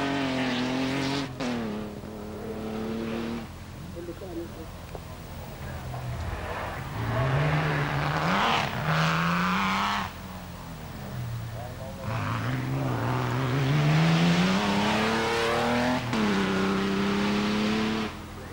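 A D-Type race car climbs the Prescott hillclimb course through an S bend, its engine rising and falling in pitch through gear changes and throttle lifts, moderately loud over a background hum with narration running across it.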